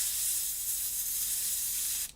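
An airbrush spraying thinned paint in a steady, even hiss for about two seconds before cutting off abruptly, close and alone, with no one talking.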